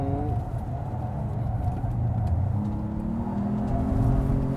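A 2025 Ford Maverick Lobo pickup accelerates hard in Lobo mode during power oversteer, a steady engine drone that rises in pitch toward the end, loud and close with no voices.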